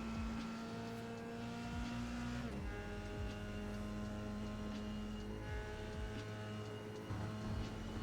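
Formula 3 race car engine at full throttle from onboard at Road America, a steady high-pitched wail that dips briefly as the gears change, then holds flat out, loud and close with no talk.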